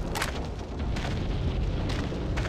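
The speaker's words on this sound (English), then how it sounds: "Artillery sounds like it's just up ahead" Artillery explosions rumble ahead in Call of Duty: World at War Final Fronts on PS2, a run of deep booming blasts with sharp crackling bursts mixed into a constant low roar.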